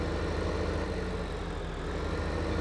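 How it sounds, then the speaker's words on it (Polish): Tractor engine running in the Farming Simulator 15 video game, a steady low throbbing idle with an even pulsing rhythm, continuous and alone. "Uruchomimy ciągnik."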